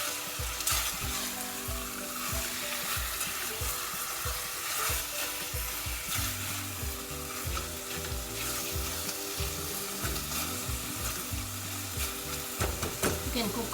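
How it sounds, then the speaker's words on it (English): Meat for an Anglo-Indian brown stew sizzles loudly and without pause in a hot pan, with the scrape and clatter of stirring running through the close, dense frying hiss. "Now we'll add in our meat. And give it a good stir."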